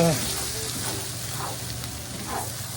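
Onions sizzle and fry in a pan as they brown and caramelize, a soft steady crackle with occasional stirring, while a voice speaks over it.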